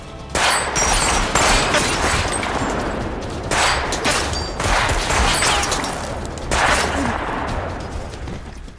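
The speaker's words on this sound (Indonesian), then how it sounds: "Orson dan Hikaru dengan senjatanya mereka menembaki para pasukan taktis tersebut dengan" Heavy gunfire in an action film battle scene rings out in several loud, dense bursts with short gaps between them, close and with no talking over them.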